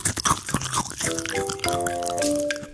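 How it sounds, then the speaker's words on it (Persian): Chewing on cardboard from inside a toy box comes through as a run of wet, crunchy bites and squishy munches, close and uneven, with a bright tonal chime layered over the second half. "صدایی شبیه صدای جویدن مقوا از توی جعبه اسباب بازیاش"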